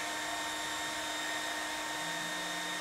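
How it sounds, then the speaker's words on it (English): An electric whisk whirs in a steady, faint, even drone as it beats a mixture until it thickens, with no talking. "We're just going to whisk it until it starts to thicken."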